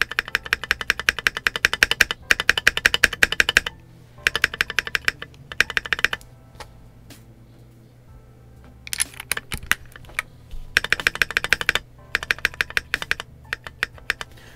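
A KiiBoom Pink Transparent Phantom68 mechanical keyboard being typed on, close and crisp key clacks in fast bursts separated by brief pauses, with occasional deeper spacebar thocks and no talking.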